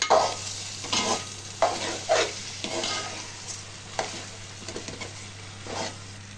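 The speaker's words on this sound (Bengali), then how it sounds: "চাউলগুলো দিয়ে দিলাম, ভেজে নিব লাল লাল করে।" Rice for pulao fries in a pan as it browns, with a constant hiss under a series of rhythmic scraping stirs, loudest early and easing off later, and no voices.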